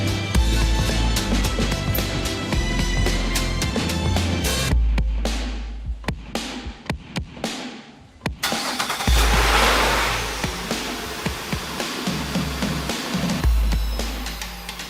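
A car engine cranks and catches, stutters with a few sharp revs, then settles into a steady, loud idle close by.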